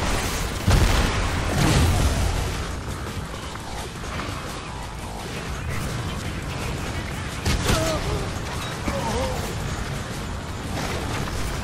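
Dense gunfire and booming blasts in the video game Hard Reset rumble continuously, with sharper bursts of shots standing out against a loud, busy battle background.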